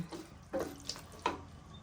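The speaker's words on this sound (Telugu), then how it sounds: "ఇందులో సరిపడ వాటర్ పోసుకోవాలి" Water is poured into a pot with washed rice and spices for paneer pulao. The sound is faint, with a few short splashy gushes in quick succession and no talk.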